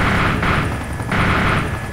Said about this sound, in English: Enemy chopper. 2 o'clock.